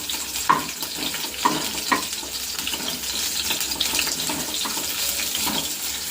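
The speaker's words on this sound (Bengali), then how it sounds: "পেঁয়াজটা ভেজে নিচ্ছি আর কি। পেঁয়াজের সাথে কারি পাতা একটু দিয়ে দেবো।" Onions frying in white oil with curry leaves in a home kitchen, a loud, continuous hiss and crackle with a few brief stirring knocks near the start.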